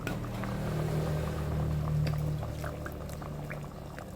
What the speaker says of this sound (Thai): ใส่น้ำปลาไปหน่อยนึง